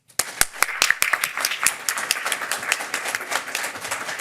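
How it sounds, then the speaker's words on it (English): Audience applause at a talk on gluten-free diets breaks out at once, a modest crowd clapping in dense, uneven bursts that hold fairly steady before thinning slightly. "please give Ashlea a warm round of applause"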